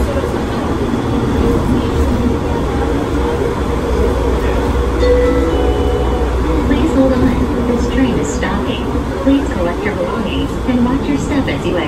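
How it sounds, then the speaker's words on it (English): Automated people-mover train at Atlanta airport departing, a steady loud rumble of rolling wagons with faint rattles and hiss throughout, no talk over it. "This train is departing."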